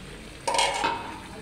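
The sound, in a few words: curry being sautéed in a pan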